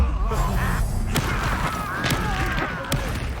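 A Confringo spell cast in Hogwarts Legacy, a series of sharp magical blasts and thuds over a dense, rumbling game soundscape with whooshing effects.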